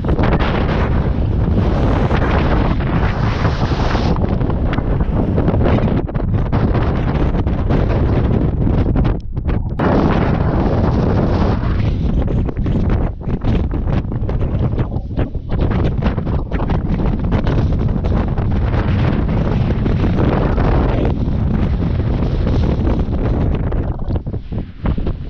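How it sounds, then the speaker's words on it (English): Strong, constant wind buffeting the microphone on an exposed hillside near Llanfairfechan, Wales, roaring and gusting steadily throughout with no voices, on a blustery day. "Very windy."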